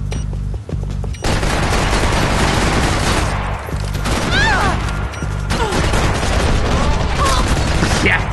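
Heavy gunfire from a Max Payne 3 multiplayer match, with dense automatic bursts, explosions and crashing impacts filling the whole stretch, loud and continuous.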